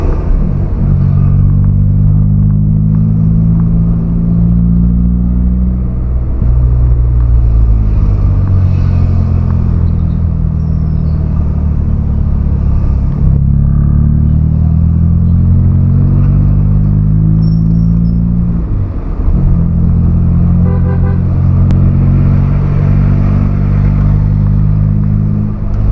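Heavy midday traffic in Calamba heard from inside a Nissan Sentra B14: a loud, steady low engine rumble that shifts in pitch as the car accelerates and slows, with faint clatter in the background.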